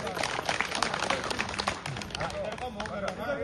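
Students at a school fire-safety training session clap in a dense, steady burst of applause, with voices mixed in beneath the clapping.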